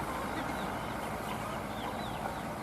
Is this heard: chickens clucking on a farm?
yes